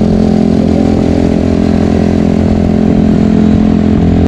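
Motorcycles riding on the road to Saleshwaram near Hyderabad, giving a loud, steady droning engine roar close by with constant wind rush, with no talking.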